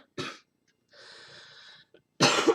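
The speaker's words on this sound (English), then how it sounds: "Or coughing, as for that matter." A person coughs sharply twice, with a wheezy, drawn-out breath in between. The sounds are close and dry in a quiet room.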